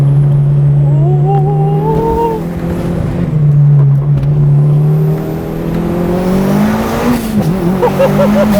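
A Mitsubishi Lancer Evo driven hard around a tight, tree-lined oval course, its engine droning and rising and falling steadily as it accelerates and lifts between corners, loud and close throughout.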